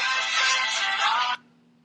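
A mobile phone ringtone playing All the Right Moves by OneRepublic rings bright and steady for over a second, then cuts off abruptly into near silence.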